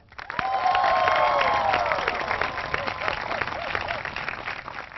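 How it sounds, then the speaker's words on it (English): Studio audience applause at a quiz show taping swells quickly and holds steady and fairly loud, with some cheering mixed in before it slowly eases. "A big round of applause"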